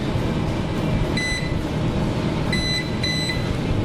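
An oven timer being set gives three short, high electronic beeps spread over a few seconds, heard over a steady kitchen hum with no talking.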